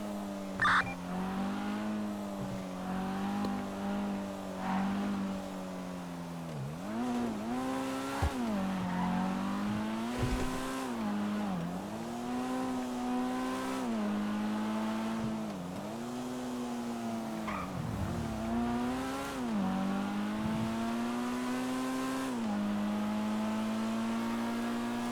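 Car engines rev and whine continuously in a driving game, pitch rising and falling with gear changes, with occasional tire squeals and skids, loud and steady throughout.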